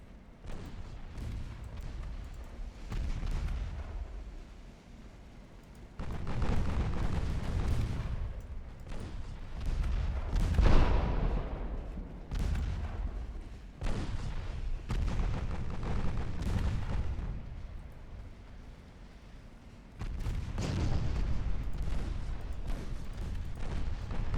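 Naval secondary guns firing in the warship game Ultimate Admiral Dreadnoughts, heavy booming salvos rolling in repeated bursts over a steady rumbling battle background, with no speech.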